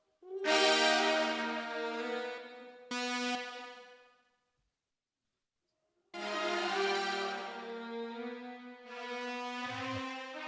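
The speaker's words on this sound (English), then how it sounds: "this is just the reverb" Reverb-only return from a recorded brass instrument: sustained washy tones with long smeared tails, two phrases separated by near silence, moderately loud and alone.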